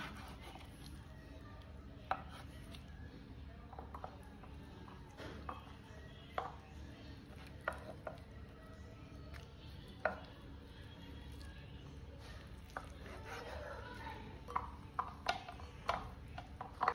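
A knife slices softened crab sticks down the middle on a board, making faint, irregular taps and thuds against a low steady background hum, with no talking.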